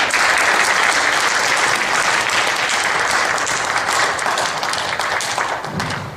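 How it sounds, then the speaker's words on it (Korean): Korean church congregation at a Sunday service in Toledo clapping to welcome the visiting pastor Hosea: a full, loud burst of many hands, sustained evenly before easing slightly at the end. "앞으로 나오실 교회 박수로 환영하도록 하겠습니다."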